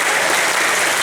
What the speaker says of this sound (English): All right, let's give a round of applause.